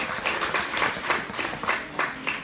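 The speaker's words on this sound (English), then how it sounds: "Give yourselves a round of applause for a good evening." Audience at a spoken word poetry evening clapping together, a steady patter of many hands with loose rhythmic swells, moderately close and with no voices over it.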